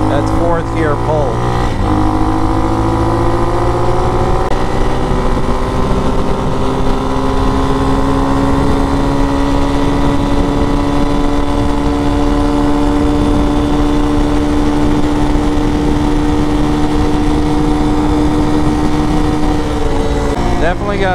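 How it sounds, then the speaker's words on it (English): A Hawk DLX motorcycle with a tuned Delphi EFI computer pulls hard in fourth gear, a loud, steady engine drone close to the mic that holds its pitch and rises only slightly over about twenty seconds. "Fourth gear pull."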